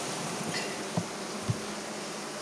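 Honey bees swarm around an open hive, their buzzing forming a dense, steady drone close by, broken by a couple of soft wooden knocks.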